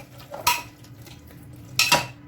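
Chicken with turmeric, sugar, cumin powder and tomato is stirred in a pan, with two loud metallic scrapes of a utensil against the pan over a low quiet background.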